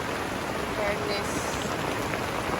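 Heavy rain pounds a tent at a seaside campsite in Calamba during a storm, a steady, dense hiss of drops drumming on the fabric close by, with a faint voice underneath.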